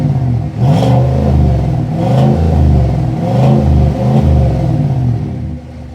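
A 2024 GMC Sierra Denali Ultimate pickup with a 6.2-liter V8 and active exhaust revs loudly and close, giving repeated deep throaty blips that rise and fall in a steady rhythm with a burbling idle between them.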